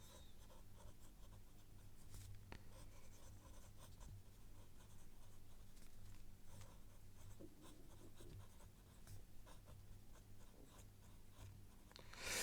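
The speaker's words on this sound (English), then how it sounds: "I'm going to write that here." Pen or pencil scratches across paper in a quiet room, faint continuous strokes and short scribbles in an uneven rhythm, close by and without talk.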